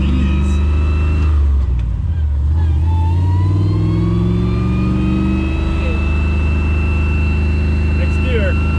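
LS-swapped Chevy S10 truck driving, its engine droning loud and steady, then rising in pitch as it accelerates through the gears, heard from inside with people talking over it.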